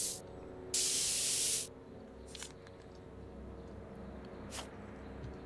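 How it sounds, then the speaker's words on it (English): A spray can hissing paint onto a wooden plank in Back To The Future: The Game, one loud sustained burst of just under a second followed by a couple of brief, fainter puffs over a low ambient hum. "and then spray the plank"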